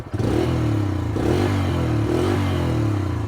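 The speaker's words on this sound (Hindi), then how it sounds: "एग्जॉस्ट नोट जो है इसमें ज़्यादा फर्क नहीं है, it sounds exactly the same" Close by, a Bajaj Freedom CNG motorcycle runs in petrol mode, its exhaust giving a steady, low, throbbing note with a slight rise in revs partway through.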